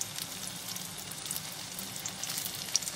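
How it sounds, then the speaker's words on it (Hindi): Taro leaves fry in a pan with a soft, continuous sizzle and faint crackle, quiet and even throughout. "देखिए कितने अच्छे से फ्राई कर रहे हैं"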